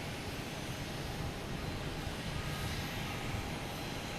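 A Spirit Airlines airliner pushing back at Boston Logan gives off a faint, steady whine and hiss of idling jet engines, heard from a distance with no break.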